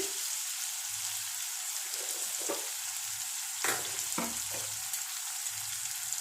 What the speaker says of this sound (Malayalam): കരിയാപ്പില ഉപ്പും കൂടെ ഇട്ടിട്ട് നമുക്ക് മൂപ്പിച്ചെടുക്കാം